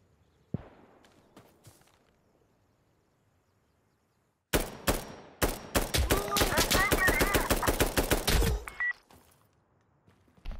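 A machine gun in the video game Insurgency: Sandstorm cracks out a long, loud, rapid burst of shots after a few scattered quieter shots and faint shuffling, then cuts off abruptly.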